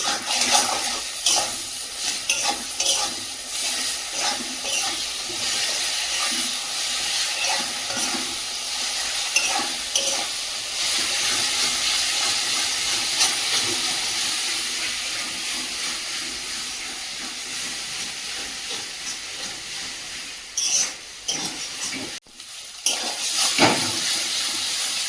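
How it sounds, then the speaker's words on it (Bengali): Spice paste of cumin, ginger and garlic fries in oil for a home-style meat curry, a steady close sizzle and hiss with stirring scrapes throughout, a few sharper clatters near the end. "এবার মশলাটা লাল লাল করে ভেজে নিয়েছি, আর তেলও ছেড়েছে।"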